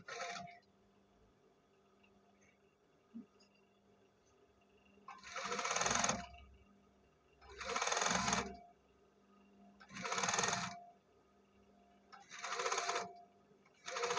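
Sewing machine stitching the bound neckline of a back-opening garment, running in four loud bursts of about two seconds each, with short pauses between them where the presser foot is lifted slightly.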